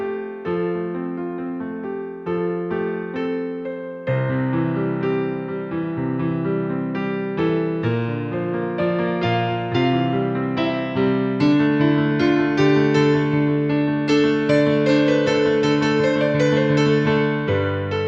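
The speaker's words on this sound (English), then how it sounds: "what you're hearing is piano" Solo piano playing a flowing melody with sustained chords, steady and fairly loud, no voices.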